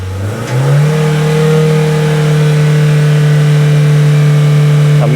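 A Ford Fiesta engine revs up under acceleration: a low idle climbs quickly and then holds a loud, steady, droning pitch for several seconds, close and alone.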